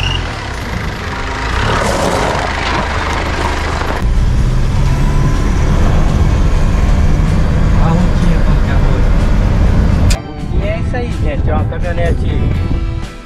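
A Ford F-100 Twin Beam pickup drives along with a steady low engine rumble and road noise that briefly drops and resumes, while someone talks over it.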